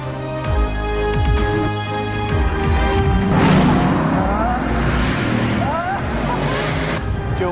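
A 1,200-horsepower Bugatti Veyron with a dual-clutch gearbox accelerating hard, its engine roaring loud and close and climbing in pitch through the gears, with a voice speaking over it.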